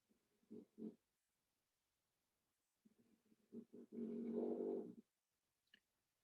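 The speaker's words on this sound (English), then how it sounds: "that's my dog snoring" A dog snoring softly somewhere in a quiet room, giving a few faint, low, rasping breaths with a longer, louder snore near the end.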